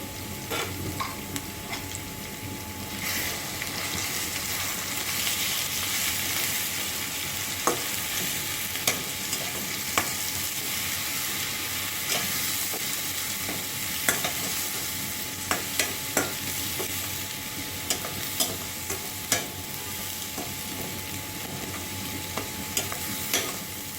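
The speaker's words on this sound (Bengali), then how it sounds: "ভালো করে নেড়েচেড়ে কষিয়ে নিয়ে চর্বিগুলো ছেড়ে দিলাম।" Goat fat frying with ground coriander and cumin, a steady close sizzle broken by repeated sharp ladle scrapes and knocks against the pan as it is stirred; no speech.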